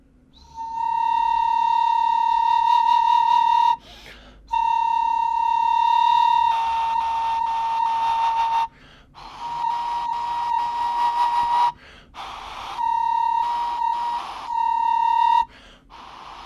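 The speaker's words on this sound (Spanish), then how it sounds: "Aquí en las culturas del Ecuador, en especial la cultura bahía, desarrolló estos silbatos dobles" Pre-Columbian ceramic double whistles of Ecuador's Bahía culture sound in several sustained, steady high tones with a beating, doubled quality, played alone in separate blows broken by brief pauses.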